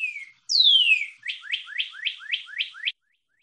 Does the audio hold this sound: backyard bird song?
yes